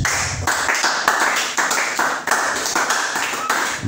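A church congregation claps together in acclamation, loud close rhythmic applause with sharp repeated hand strikes in uneven bursts, a few voices faintly mixed underneath.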